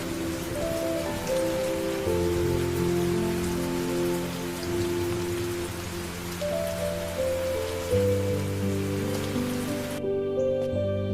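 Steady heavy rain hisses evenly under a bed of sustained musical notes, and the sound cuts off abruptly just before the end.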